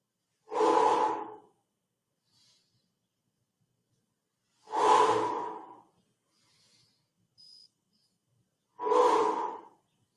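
Three strong breaths, spaced about four seconds apart, during a Pilates exercise, each a broad airy exhale up close, with faint small sounds between them.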